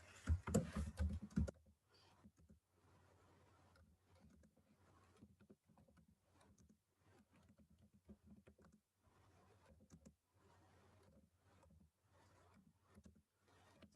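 Soft computer keyboard typing while answers are entered into a Google Docs assignment, with a louder burst of clatter at the start followed by quiet, irregular runs of keystrokes and short pauses.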